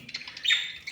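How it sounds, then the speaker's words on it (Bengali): A few quick, high chirps from budgerigars, one brighter twittering call standing out in the middle, heard close and on their own. "সবগুলো বসে আছে এখানে, কিচির মিচির করে ডাকে"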